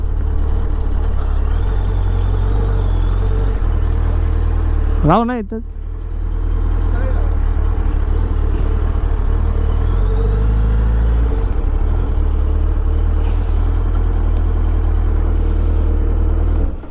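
A Suzuki Hayabusa motorcycle engine idling close by with a deep, steady low rumble that runs throughout, while people talk over it.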